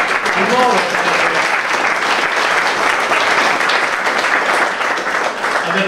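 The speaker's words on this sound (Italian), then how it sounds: "un applauso a loro per" Audience applause at an Italian political gathering, a loud, dense, steady clapping that runs through the whole clip, with a brief voice at the start.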